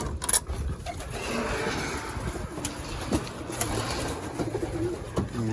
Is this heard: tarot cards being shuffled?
no